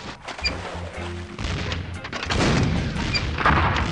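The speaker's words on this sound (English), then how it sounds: "Use the cannon." A cannon fires in the Curse of Monkey Island video game, giving a loud boom followed by rumbling, crackling bursts that build and stay dense to the end; no speech.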